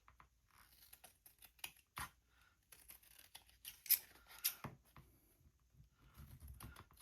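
Scissors trim the edges of woven trim on a paper card with a series of quiet, close snips and small rustles, irregular in rhythm and with no talking.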